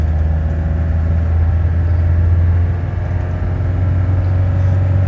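A Toyota Dyna truck with a 2.8L diesel engine drives in third gear on pavement at about 3,000 RPM, giving a loud, steady low engine drone and rumble with no break.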